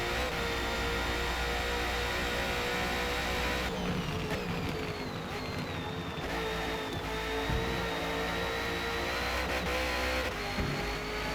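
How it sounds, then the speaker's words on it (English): Race car engine in a racing video game at Bathurst, held at high revs and buzzing against the rev limiter, loud, steady and close, with no talk. "hitting the rev limiter isn't ideal"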